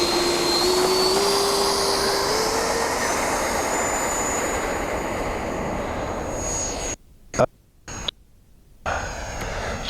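An FMS F-18 radio-controlled jet with a 70 mm electric ducted fan whines loudly and steadily in flight, its pitch drifting as it passes, then cuts out in several abrupt gaps before surging back.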